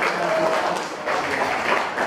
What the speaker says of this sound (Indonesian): Beri tepuk tangan buat teman kamu